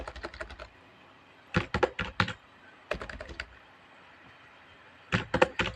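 Bursts of rapid key clicks from an external computer keyboard arrive in three or four separate clusters with quiet pauses between, close and crisp in a quiet room with no talking.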